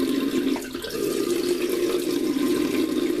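Tap water runs steadily into a sink to wet the nose for nostril blackhead removal strips, a continuous close splashing flow with no voices.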